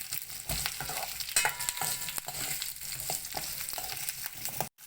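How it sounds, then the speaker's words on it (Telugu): Green chillies and onion fry in a pan with a continuous crackling sizzle and occasional stirring scrapes, heard close and alone, ending in a brief cutoff. "అలాగే గ్రీన్ చిల్లీస్, ఆనియన్ వేసి వీటిని కొంచెం సేపు వేయించుకున్నాము."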